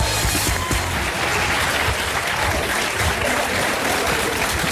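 A television studio audience applauds a singer as she is welcomed on a French prime-time show: steady, dense clapping that holds at an even, loud level throughout with no voices rising above it.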